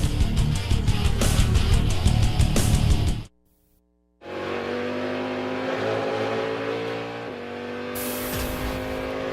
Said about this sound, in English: There is the Stevenson Camaro of Robin Liddell trying to reel Bill Orblin in.